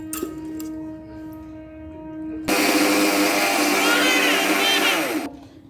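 An electric blender grinding soaked biuli (urad) dal with water: a faint motor hum first, then a sudden loud, harsh whirring burst that runs steadily for about three seconds before cutting off abruptly.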